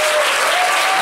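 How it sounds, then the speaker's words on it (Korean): A lecture audience at an arts school comedy class bursts into loud, dense applause, a continuous wash of many hands clapping at once. "이럴 때 큰 박수 한번 주시면 됩니다"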